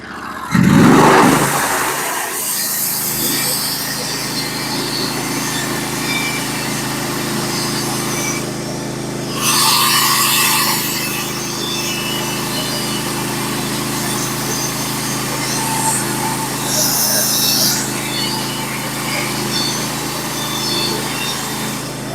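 A Norwood HD36v2 sawmill runs steadily as it cuts a pitch pine board, its engine droning and its blade whining loudly and continuously for over twenty seconds, with brief surges in the hiss of the cut.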